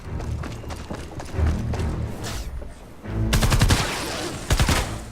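Gravedigger weapon firing in Fortnite Save the World, heard as loud, dense bursts of rapid gunfire with a brief lull before a second, heavier volley near the end.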